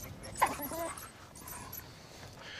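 A female dog makes brief high whimpers and soft yips nearby over a noisy outdoor background in Africa, with speech faintly mixed in.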